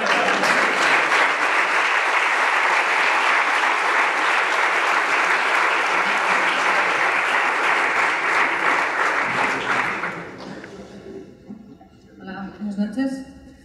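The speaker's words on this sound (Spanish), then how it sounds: "Recibamos con un fuerte aplauso a María Gotti" A large audience at a game awards gala in Barcelona applauds loudly and steadily for about ten seconds, then the clapping thins and fades into scattered claps and faint room sounds.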